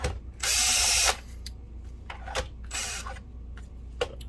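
A power screwdriver whirs in two short loud bursts while screws come out of a BenQ HT1075 DLP projector during a color wheel repair, separated by small clicks and handling taps, close up with no speech.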